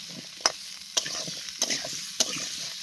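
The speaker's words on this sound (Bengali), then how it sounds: "দিয়ে এখন কিন্তু নাড়াচাড়া করব।" Kohlrabi frying in a spice masala is stirred in a pan, with four sharp, evenly spaced knocks of the spoon against the pan over a steady, close sizzle.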